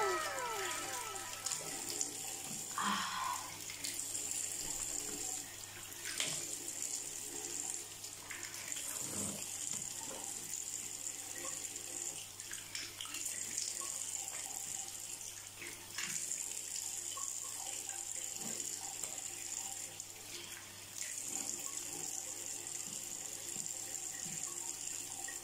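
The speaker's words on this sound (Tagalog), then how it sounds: "pag ito binanlawan mo ng malamig na tubig, ang sarap sa pakiramdam." Cold tap water running steadily from a faucet into a sink while a face is rinsed, a continuous close splashing flow with brief irregular surges and no talking.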